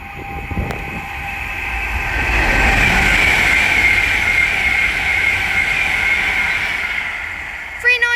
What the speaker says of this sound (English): Down in the distance is an Avanti West Coast Class 390 Pendolino working service from London